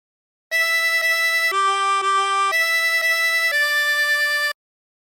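A 16-hole tremolo harmonica plays a short phrase of Yellow Rose of Texas, four steady held reedy notes with a wavering tremolo shimmer, close and clear with nothing else heard.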